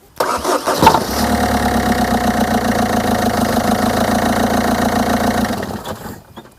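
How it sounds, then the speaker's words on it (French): A Peugeot 207 1.6 HDi diesel engine cranks and catches with a loud rumble after a rear engine mount replacement, then settles into a steady, even idle for several seconds before cutting off. "on va voir ce que ça donne au niveau des vibrations lorsque je vais démarrer mon véhicule"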